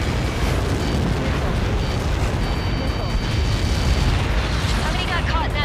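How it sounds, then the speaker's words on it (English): Huge explosion after a missile impact in Ace Combat 7, a loud, sustained rumbling blast with dense crackling that fills the whole stretch, overlaid by radio voices talking. "How many got caught in that explosion?"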